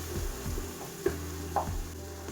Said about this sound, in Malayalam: ഇനി ഇതിലേക്ക് കുറച്ച് ഇഞ്ചി വെളുത്തുള്ളി പേസ്റ്റ് ഇട്ടിട്ട് നല്ലോണം മിക്സാക്കാം